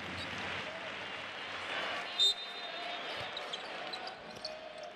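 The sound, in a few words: crowd applause for a basketball player entering the game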